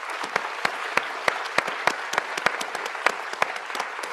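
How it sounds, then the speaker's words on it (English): An audience at a conference keynote breaks into steady, even applause of many hands clapping. The clapping is full and sustained throughout, with no voices standing out. "massive round of applause again, because she's awesome"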